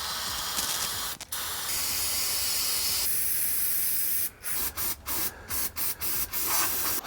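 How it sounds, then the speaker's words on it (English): Aerosol cans of brake cleaner and PB Blaster penetrating oil sprayed onto a carrier bearing on a 2006 Toyota Tundra: a long steady hiss broken once, then a series of short bursts separated by brief gaps, close and loud. "clean it off with brake cleaner, and then shoot some PB Blaster on there"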